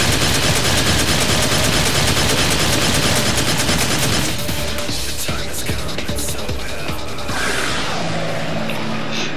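Heavy gunfire in the game Devil May Cry 4: dense, rapid shots pound continuously and loudly, later thinning into scattered blasts and whooshes amid battle noise.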